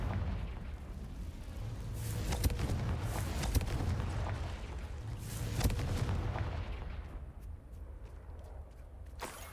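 Confringo fire spell blasts in the Hogwarts Legacy video game, several sharp booming bursts scattered over a steady rumbling game soundscape, moderately loud with no talking.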